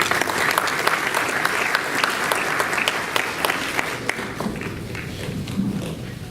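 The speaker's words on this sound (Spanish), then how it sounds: "Un aplauso, por favor, para él." Audience applause for a port terminal general manager at a conference on a southern Peruvian port, crisp dense clapping that thins and fades toward the end as a voice begins to come in.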